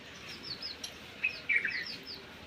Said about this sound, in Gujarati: જો કેવા પંખીડા બોલે.